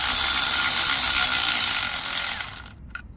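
Quick ratcheting clicks from a wrench driving 10mm screws into a Honda GCV190 engine during reassembly, a steady close buzz of pawl clicks that breaks into a few separate clicks before stopping.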